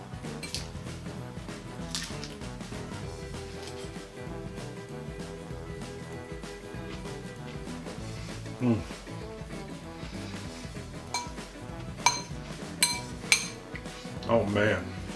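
Mango-lime bean salad being mixed in a bowl, with repeated clinks and scrapes of a utensil against the dish, plus a few sharper knocks toward the end, under soft talk.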